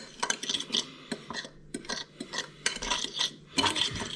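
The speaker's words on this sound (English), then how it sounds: "I'm going to stir it together until it's nicely blended" A utensil clinks and scrapes against a bowl while ground cardamom is stirred into sugar, in repeated close, bright taps and rubbing strokes with no speech.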